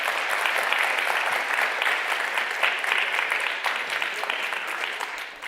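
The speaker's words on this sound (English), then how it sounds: "Let's give our winner and all of the finalists in that second category another round of applause." Sustained applause from a forum audience for a category winner and finalists at an awards-style event, steady and dense throughout without letting up.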